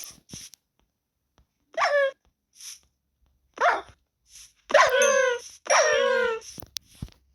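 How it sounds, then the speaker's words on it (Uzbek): A Minecraft dog yelps and barks in several short, sharp bursts, closer together toward the end, with small clicks in between. "it."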